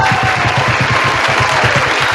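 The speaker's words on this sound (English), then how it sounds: "let's give a round of applause" An audience applauds a guest at a community talk event, a loud, continuous wash of clapping with no break across the whole short stretch.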